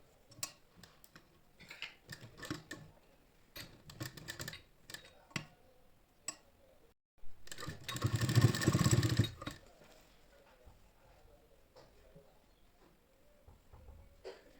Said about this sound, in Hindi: और यहाँ पर हम इसमें सिलाई लगाएंगे, ठीक है।